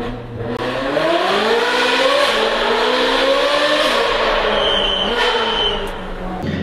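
A Ferrari 488 Pista engine revs hard and sustained, pitch climbing and sliding through gears, loud and close with no talking.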